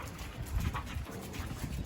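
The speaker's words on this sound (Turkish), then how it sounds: "Burada da köpek çok." A dog on a horse farm pants faintly, quick breathy huffs close by with a soft whimpery edge, quiet and alone without talk.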